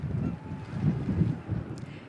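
Wind gusting across a microphone on a city street in Dublin, a low, rumbling buffet that swells and fades in uneven waves, steady and close with no voices.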